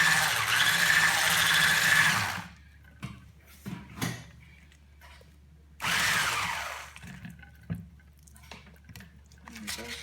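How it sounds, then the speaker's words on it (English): Two bursts of an electric blender whipping homemade body butter, each lasting a few seconds, separated by quieter gaps with soft scraping and clicks. "going to use the blender."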